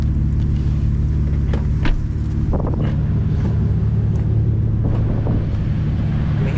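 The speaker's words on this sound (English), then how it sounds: "I want you to come around here and rev it for me" Manual BMW M3 engine revving in neutral, caught from outside the car: a steady low, deep rumble with a few throttle swells rising over it, loud and close, no talk.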